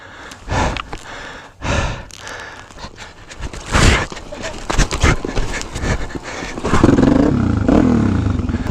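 A motorcycle engine catches after a push start. Heavy panting breaths and scuffing come first, then a loud, steady engine rumble fills the final seconds.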